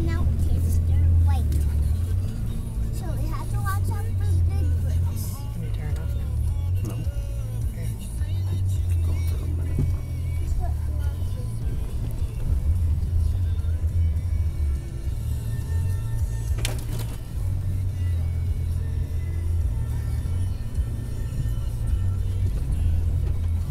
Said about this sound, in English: this truck is huge